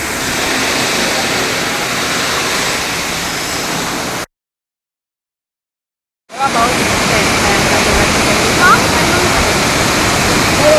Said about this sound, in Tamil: ராவணா ஃபால்ஸ், ஸ்ரீலங்கா. மிக அருமையான ஒரு இடம்.